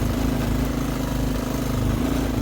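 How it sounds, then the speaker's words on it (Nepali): A motorcycle riding along a dusty road near Pharping, Nepal, its engine a steady, continuous drone with a low hum throughout, close and fairly loud, with no talking. "बाइक के गइरहेछ धुलो पुरा उडिरहेछ"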